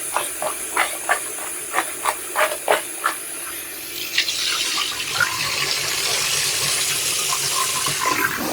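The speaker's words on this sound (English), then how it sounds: "Let's go rinse these bad boys." Potatoes rinsed under a running kitchen tap: a few knocking handling sounds at first, then a steady close rush of water splashing into the sink that continues to the end.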